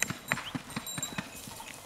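Romanian-bred horses walk nearby, their hooves striking in a steady, even clip-clop rhythm of crisp, moderately loud knocks with no talk over them.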